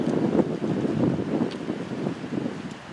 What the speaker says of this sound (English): the wind's getting even worse